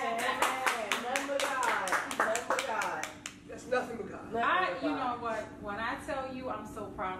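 An audience claps for a few seconds, the applause fading as a person begins speaking over it.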